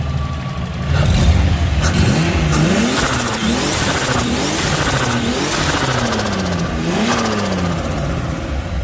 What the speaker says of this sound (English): I'll just give it a quick rev here on my side.